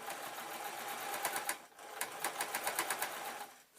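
A sewing machine stitches through layered fleece at the top of a slipper, running as a steady, close whir that breaks briefly before resuming with rapid, evenly spaced needle pulses.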